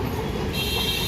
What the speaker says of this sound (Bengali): বলতে বলতেই এক এক ট্রাম এসে গেছে